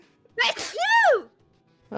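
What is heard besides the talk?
sneeze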